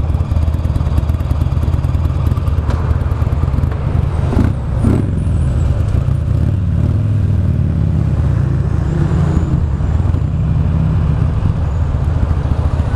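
A 2009 Buell Lightning Long XB12SS motorcycle engine rumbles loudly and continuously on a test ride through town traffic, with close, throbbing exhaust and some clatter and wind noise throughout.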